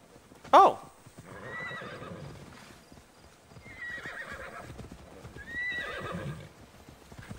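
A horse in the video game Immortals Fenyx Rising gives a loud whinny at the start, followed by quieter hoof clip-clops and snorting-like sounds over several seconds, with no talking.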